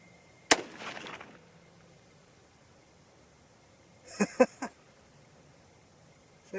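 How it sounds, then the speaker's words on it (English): A single sharp 6.5 Creedmoor rifle shot cracks early with a short decaying echo; seconds later, a few quieter clicks and clatters follow at an outdoor range. "Same hole as that second shot."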